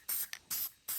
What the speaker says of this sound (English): guide coat, and we're just going to spray it on there lightly on each of these spots here